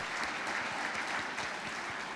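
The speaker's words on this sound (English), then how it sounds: "给他热烈的掌声来感谢他的演讲" Seminar audience at a Rotary training meeting gives a speaker warm applause, a continuous, even roar of many hands clapping in a hall, steady and moderately loud with no talk over it.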